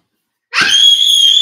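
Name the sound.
child screaming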